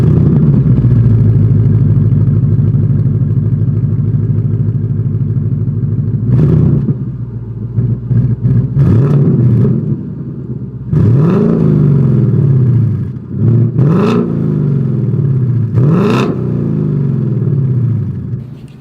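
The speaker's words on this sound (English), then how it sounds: "here is that exhaust clip" A 2021 Ford Mustang GT V8 idles with a deep burbling performance exhaust, then revs up sharply several times, loud and close, each blip falling back to idle.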